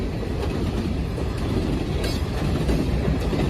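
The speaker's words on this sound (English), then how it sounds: "This coal train would feature two Conrail quality hoppers, which is actually really rare nowadays." A coal train with Conrail hopper cars rolls past close by, a steady loud rumble of wheels on rail with faint metallic clinks and clicks.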